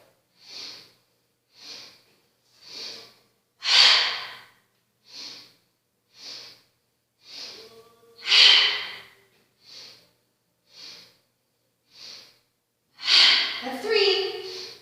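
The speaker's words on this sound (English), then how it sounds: "now we'll do 8 rounds of breath of joy." Breath of joy yoga breathing exercise: a series of sharp, forceful nasal inhalations in a steady rhythm, with about a dozen close, distinct breaths and heavier exhales every few rounds.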